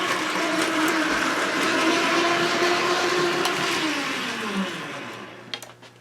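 O gauge model train locomotives run on a public display layout with DCC relay control, giving a steady motor whine and rolling rumble that holds, shifts in pitch, then fades toward the end with a few clicks.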